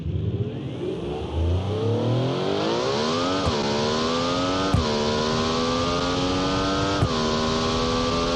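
A 1.1-liter V16 engine in a BeamNG driving game revs hard, climbing from a low drone to a high shrieking wail, with several brief shift dips around the peak and no talk.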